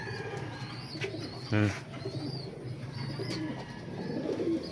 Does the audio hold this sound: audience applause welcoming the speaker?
no